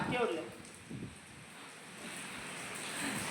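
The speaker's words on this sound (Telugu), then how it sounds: "వాన దంచి కొడుతుంది" Heavy rain pours down in a continuous, dense wash of noise with gusty wind buffeting the microphone, and faint voices are briefly heard beneath it.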